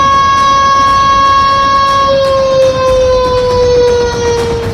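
A loud, sustained air raid siren drones in a steady tone that slowly slides lower, heard alone and close.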